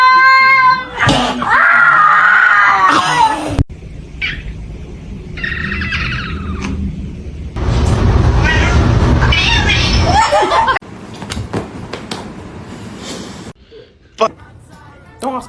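Kittens meow and cry in loud, strained bursts, mixed with other cat calls and bird-like chirps. Abrupt cuts join the sounds, and voices talk over parts of it.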